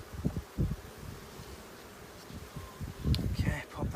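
Honeybees buzzing faintly around an opened hive during an inspection with a smoker, under several soft handling knocks and rustles of frames and comb; a low-level drone that stays in the background.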